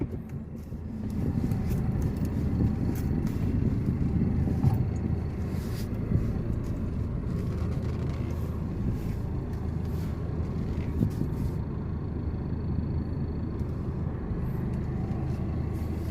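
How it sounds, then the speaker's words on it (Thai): A Ford 2.2 diesel engine with freshly repaired injectors revs unloaded in a workshop, a steady, loud low rumble holding for about sixteen seconds without a break. "เร่งเครื่องตัวเปล่าแล้วนะครับ"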